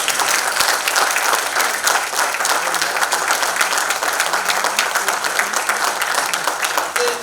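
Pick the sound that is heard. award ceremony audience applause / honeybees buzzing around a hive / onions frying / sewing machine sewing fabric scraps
award ceremony audience applause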